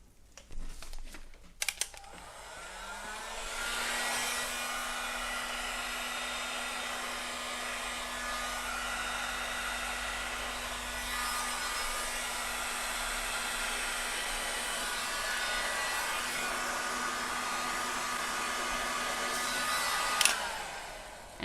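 A heat gun blows hot air onto a resin piece treated with a new cell medium, a steady loud whirring roar that starts after a couple of seconds and runs unbroken for about eighteen seconds before cutting off.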